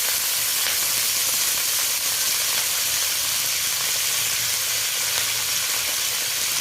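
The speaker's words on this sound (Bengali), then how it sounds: "নেড়ে চেড়ে লালচে করে ফুলকপিটা ভাজতে হবে" Cauliflower frying in hot oil crackles with a loud, dense and constant sizzle, joined by a steady undertone of stirring.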